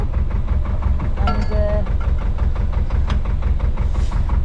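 A narrowboat's engine idles steadily at a canal mooring in Ellesmere, a low continuous chug filling the background while a person speaks briefly over it.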